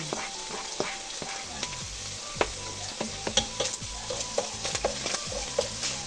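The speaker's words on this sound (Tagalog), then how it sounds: "Pag-ginasa na po tayo ng bawang." Garlic sautés in oil in a pan for Valentine's Day spaghetti, a steady sizzle broken by frequent sharp spatula clicks and scrapes against the pan.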